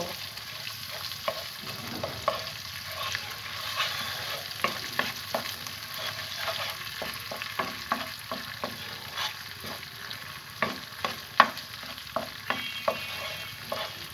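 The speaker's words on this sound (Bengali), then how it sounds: "এক টেবিল চামচ পরিমাণ আদা রসুন পেস্ট এবং হলুদ গুঁড়া দিয়ে এটাকে ভালো করে তেলের সাথে এটাকে আমি ভুনে নিব" Ginger garlic paste and turmeric powder fry in oil in a pan with a steady low sizzle, while a spatula stirs with frequent small scraping clicks throughout. No one speaks.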